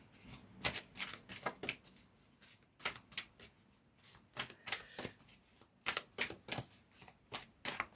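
Oracle cards being shuffled by hand, a rapid series of crisp riffling and slapping bursts in an irregular rhythm, close and fairly quiet, with no talking.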